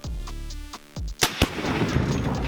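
Gunfire, likely from a Barrett M82 sniper rifle, follows a spoken warning: two sharp, loud reports in close succession, then a lingering wash of echo and noise.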